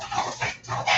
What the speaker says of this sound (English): that's my dog. She's excited. She's a pug